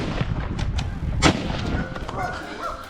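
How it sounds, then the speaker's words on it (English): Rapid gunshots during a wild boar hunt in a forest, a quick series of sharp reports with one loud, close crack at the centre and fainter shots around it, over a busy outdoor background. "Rapid gunshots echoed, and the animal collapsed under the hand of the professional hunter."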